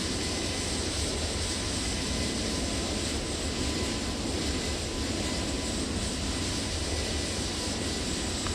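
Toliss A321neo jet engines roaring on takeoff in X-Plane 12, a dense, loud, unbroken broadband rumble and whine that holds steady from start to finish with no voices.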